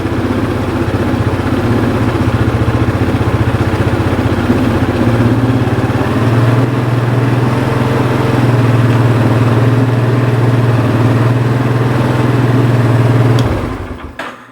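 A Yamaha Terrapro four-wheeler engine runs close by with a loud, steady rumbling drone, its pitch shifting slightly partway through before the engine cuts off near the end, with no talk.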